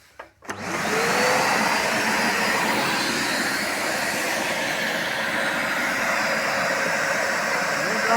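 A Samsung vacuum cleaner with a newly replaced motor switches on after a brief pause and runs at a steady, loud whine with a broad roar, continuing unbroken to the end.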